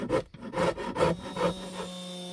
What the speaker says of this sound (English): Alright, the rest we can do with the rasp.